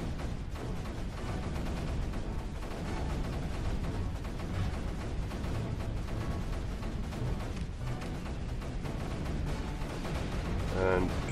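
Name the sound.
cannons firing in a video game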